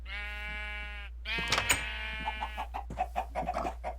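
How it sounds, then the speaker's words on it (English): A sheep in the Minecraft video game gives a long, close bleat, followed by a run of quick, clucking chicken calls over a steady low hum. "Chickens, pigs, and sheep can now walk together."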